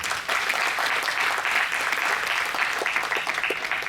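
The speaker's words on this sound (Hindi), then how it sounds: "तो आप सब के लिए और अस्मिता पूर्वा के लिए एक बार जोरदार तालियां।" Applause at the opening ceremony of Asmita Purba, a dense, steady wash of many hands clapping at once, loud and continuous throughout with no break.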